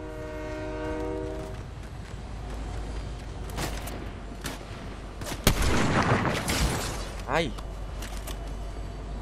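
A video game train's horn blares at the start over a heavy rumbling rail noise, followed by clanks, a few sharp bangs and a brief squeal.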